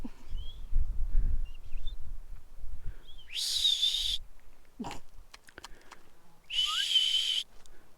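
A person imitates a marmot with two sharp, high, piercing whistles spaced a few seconds apart on an alpine trail at Mount Rainier, with rustling and footsteps in between.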